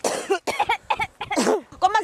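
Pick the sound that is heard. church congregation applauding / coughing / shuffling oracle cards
coughing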